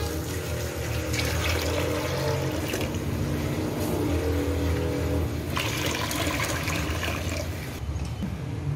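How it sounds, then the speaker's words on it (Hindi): Water pours steadily into a cooking pot of mutton haleem, a continuous splashing gush that swells and fades slightly over several seconds, with no talking. "अब पानी आपने इसमें इतना डालना है"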